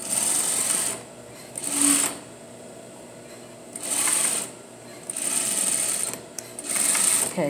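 A sewing machine stitches a quarter-inch seam along a jeans front pocket, running in several short bursts with brief pauses between, close and clear, with no talking.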